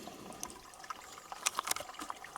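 Spring water trickles down over rock outdoors, a faint, steady dribble broken by brief brighter splashes and drips, with no talking.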